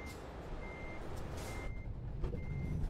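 A truck in Euro Truck Simulator 2 emits steady, repeating reversing beeps over a constant low engine rumble and a faint hiss of air brakes, with no speech.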